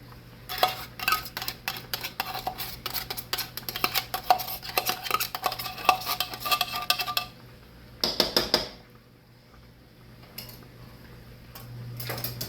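Cream of mushroom soup is stirred into a metal pan of hamburger steak with potatoes, a spoon scraping and clinking in a steady, fast rhythm for about seven seconds, then a short burst and a few faint taps.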